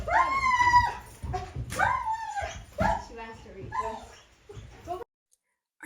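A talkative female foster dog tied on a lead at a remote Alaska off-grid building site whimpers, yips and howls in high, drawn-out cries, close and loud, then goes quiet.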